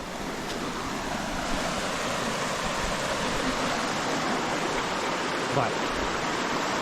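A creek flows with a steady broadband rush, close and constant throughout, and a single short spoken word barely rises above it.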